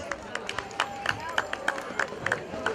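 Scattered clapping and a crowd murmur at a rural community festival, the Chaka Sábado 2013 celebration of the Moyocaba peasant community in Espinar, Cusco, with sharp, uneven claps rising out of outdoor background noise.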